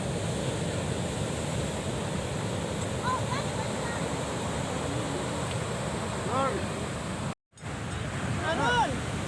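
Continuous wash of surf and wind on a beach, with faint chatter and bird-like chirps in the background.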